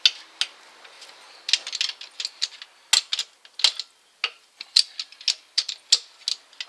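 A ratchet wrench works loose the remaining wheel nuts on a Peugeot 407, giving rapid, uneven clicking bursts up close, with short pauses between runs of ratcheting.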